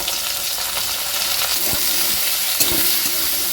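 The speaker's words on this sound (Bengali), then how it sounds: "তিন থেকে চার মিনিট মতো আমি একটু ওলকপিগুলো ভেজে নেব" Diced kohlrabi frying with salt and turmeric in a pan over a gas flame, a continuous crackling sizzle broken by a few scraping stirs of a spatula, close and alone.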